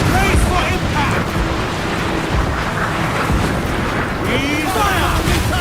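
Cannon fire and shell impacts in a naval battle in Black Flag, with repeated booming blasts and crashing hits, while crew voices shout over the chaos.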